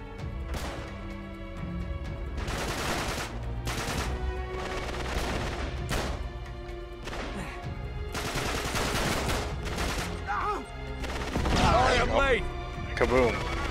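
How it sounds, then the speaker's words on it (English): Repeated bursts of gunfire crackle in rapid volleys during a castle shootout in Uncharted 3, loud and dense, with people talking over the shooting. "Oh, I still hear gunfire."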